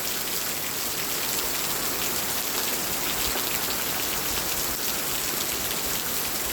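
Rain falling in Korat, Thailand, a steady close patter of drops on surfaces forming an even, continuous hiss with no one speaking.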